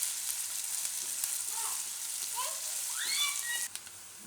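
Onions frying in oil in a pan while cooking karela muthiya nu shaak, a steady close hiss of sizzling with a few faint chirps or squeaks over it; the hiss drops off sharply near the end.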